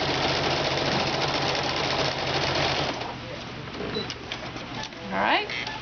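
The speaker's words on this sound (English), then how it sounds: "I'm going to reinforce my stitch, because I will be turning through there later." A sewing machine runs at a steady whir while reinforcing a stitch, then slows and stops, leaving softer handling sounds and brief background chatter.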